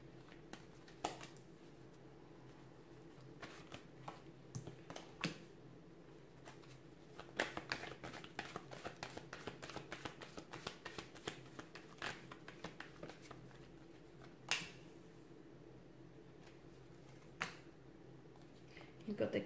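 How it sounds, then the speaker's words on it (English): Tarot cards shuffled by hand in a quiet room, a soft run of riffling, patting and flicking card noises, busiest in the middle stretch, with occasional sharper taps and no talk. "let's give the cards a shuffle"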